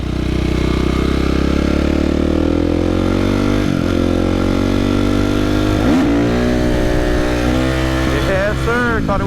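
Motorcycle engine revving hard through second and third gear, loud and close with rising pitch sweeps and a gear change, wind rush throughout.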